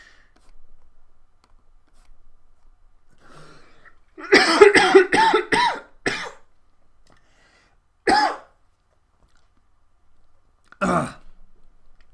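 A burst of several harsh coughs close to the microphone, followed a few seconds apart by two more single coughs, with near silence between.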